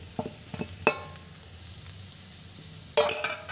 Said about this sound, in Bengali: আলু পুরের সঙ্গে ধনে পাতা কুচিটাকে একটু নেড়ে চেড়ে ভালো করে মিশিয়ে নেব